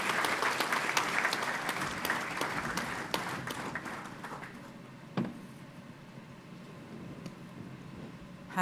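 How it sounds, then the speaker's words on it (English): Clapping from a conference audience fills the room for about five seconds, steady and fairly close, then thins into scattered claps and fades into quiet room tone. "please, if everyone can give a round of applause to wake yourselves up as well"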